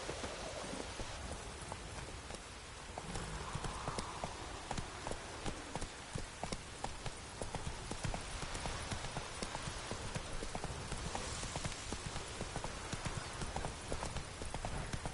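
Horse hooves clip-clop in steady rapid rhythm during a ride through rain in the video game The Witcher 3, with continuous rainfall hiss behind them.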